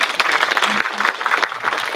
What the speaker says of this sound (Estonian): Ja teeme neile suure aplausi.